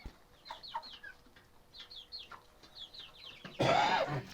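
Backyard village poultry, several hens clucking and chirping in short repeated calls at moderate distance, followed by a sudden loud burst of squawking or flapping near the end.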